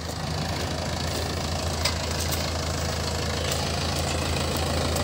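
Mahindra 575 Yuvo Tech and Swaraj 744FE tractors in H2 gear pulling 7.7 harrows across a field, a steady loud diesel engine drone with a constant low rumble and no pauses.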